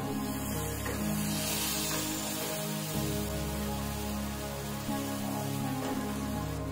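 Water goes into a spice paste frying in a pan, producing a loud, close, continuous hissing sizzle that stays steady throughout.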